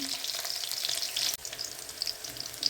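Onions sautéing in a pan for a Tamil dried-fish curry, a dense, continuous close sizzle and crackle with a light stir in the middle, no voices.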